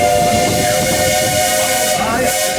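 A Walt Disney World Railroad steam locomotive sounds its whistle in a loud, sustained tonal blast with hissing steam underneath, holding for a couple of seconds before fading slightly near the end.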